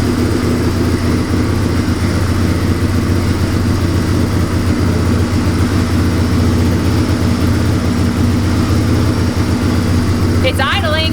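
A small engine idles steadily just after being taken off choke, a continuous low rumble throughout with no change in pitch, ending with a brief clatter.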